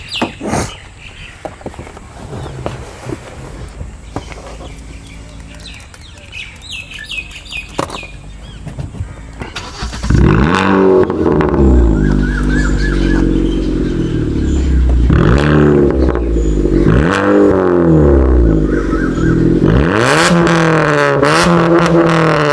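A Hyundai i20 Sports with a valvetronic exhaust setup idles quietly at first, then roars loud and close as it revs repeatedly, each rise and fall of the engine note clearly separated, with chirping birds in the background.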